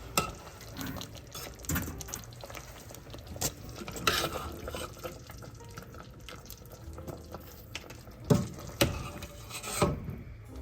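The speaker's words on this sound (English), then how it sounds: "with my strainer first, just to let them get really well drained first" Freshly boiled candied orange peels drain in a kitchen strainer over a sink, giving soft intermittent drips and trickles of syrupy water with a few louder splashes near the end, close by and fairly quiet.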